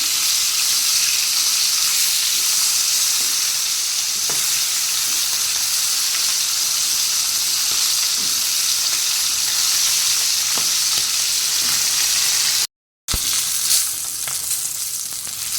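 Fish frying in oil, turned over until deep red and crisp, gives a steady, close, dense sizzle for the whole stretch, with a short break of silence near the end before the crackle comes back.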